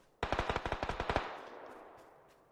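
A video-game gun fires a rapid burst of about a dozen shots over one second, loud and close, followed by a fading echo tail.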